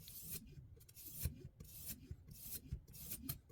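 Knife blade drawn across a 600 grit sharpening stone, giving repeated rasping strokes in a steady back-and-forth rhythm, close and fairly quiet, with no talk.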